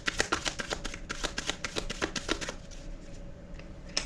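Tarot cards being shuffled: a quick run of crisp, rhythmic riffling snaps for about two and a half seconds, then near quiet, close and moderately loud with no voices.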